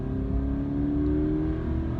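Inside the cabin of a 2019 Toyota 86, the engine drones loudly and steadily, with its tone climbing slightly as it revs.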